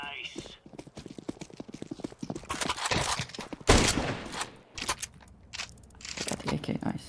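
Gunfire from a shooter video game, including a 30-30 rifle, comes as rapid bursts and single cracks amid clattering in-game effects, with a player talking over much of it.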